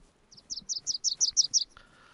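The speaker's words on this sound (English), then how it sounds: "A particularly noisy bird." A noisy bird in the video game DayZ calls about eight quick, bright chirps in an even rhythm, fairly close and clear, followed by a brief buzzy note.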